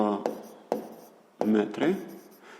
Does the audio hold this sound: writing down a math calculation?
yes